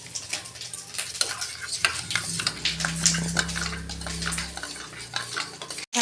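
A spoon beats a spice mixture containing Kashmiri chili powder in a bowl, giving irregular scraping and clinking strokes at close range, with a short soft hum partway through and a sharp bump at the end.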